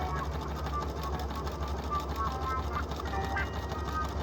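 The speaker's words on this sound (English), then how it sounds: "Fold the strip in half lengthwise, right sides together. Stitch in place." Sewing machine stitching a folded fabric strip into a casing for a cat mask, a steady close mechanical whirr of rapid needle strokes, with a voice talking over it.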